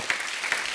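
Audience applause bursting out on a televised comedy show as a famous poet's family is introduced, a brief, dense wash of many clapping hands with no speech.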